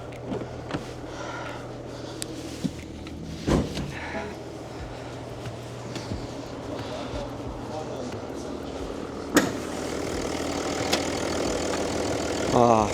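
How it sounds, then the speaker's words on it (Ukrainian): A BMW 740d xDrive LCI G11 diesel idles quietly with a steady low hum and occasional light clicks and knocks. "Чуєте, як двигунчик працює тихесенько, ну, шепче."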